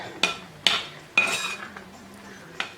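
A spoon stirs pineapple pachadi with banana, turmeric and chilli powder in a cooking pot, making four sharp, close metallic clinks and scrapes spaced apart in a quiet kitchen.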